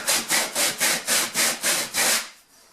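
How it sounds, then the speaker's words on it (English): Rhythmic back-and-forth sanding strokes scrape over dried wall compound patches on a kitchen wall, about eight even passes in quick succession before stopping. "It's going to be basically going over and sanding all the white spots again from the wall compound."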